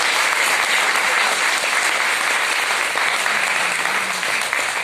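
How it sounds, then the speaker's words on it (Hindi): A large audience at a women entrepreneurs' budget meeting gives sustained, loud applause, a steady wash of clapping from start to finish with no talk over it. "जोरदार तालियां हमारी महिला बहनों के लिए।"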